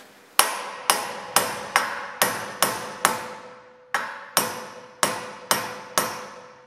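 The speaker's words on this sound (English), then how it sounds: "I want a bigger hammer here" A bigger hammer strikes a screw extractor in a dozen sharp metallic blows, evenly spaced about half a second apart with one brief pause, each ringing briefly and decaying, close and clear without talk.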